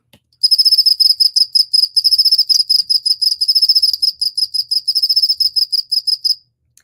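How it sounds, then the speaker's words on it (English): A field cricket chirps loudly and close, delivering rapid, regular bursts of high-pitched trills in an even rhythm with brief gaps between them. "a loud, long-distance calling song that sounds something like this"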